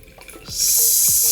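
Water poured in a zigzag over organic coffee grounds in a pour-over brewer, a few soft drips giving way to a steady, close trickling stream.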